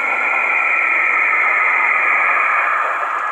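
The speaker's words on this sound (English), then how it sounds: "The tapes contain recordings of strange, otherworldly music coming through the Apollo module's radio." Strange music and static over an Apollo module radio, a continuous loud hiss with a band-limited, tinny tone that stays steady throughout and has no voices over it.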